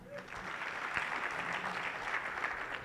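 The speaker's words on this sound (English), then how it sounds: "So let us applaud for ourselves." Audience applause at an education and leadership congress, fairly soft continuous clapping that holds steady throughout, with faint voices blended in.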